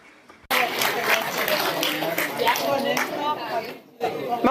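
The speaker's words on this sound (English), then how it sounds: "once again, a round of applause for you" Audience applause and crowd chatter at a business forum, starting abruptly after a short quiet moment, a dense steady clatter of many hands that dips briefly near the end before resuming.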